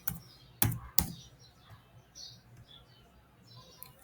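A computer keyboard being typed on for a Windows shortcut, two sharp loud clicks followed by lighter scattered taps, with faint bird chirps in the background.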